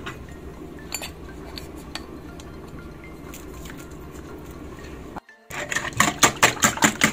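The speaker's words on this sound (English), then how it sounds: "Then we are going to whisk them together." A whisk stirs sugar and salt together in a bowl for pancake batter, a continuous soft scraping that shifts into quick rhythmic clinking strokes after a brief pause.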